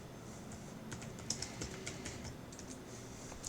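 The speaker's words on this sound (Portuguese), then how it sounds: "Eu digitando aqui" Fingers tap on a computer keyboard during accounting software data entry, a quiet irregular run of crisp clicks with brief pauses, nothing else audible.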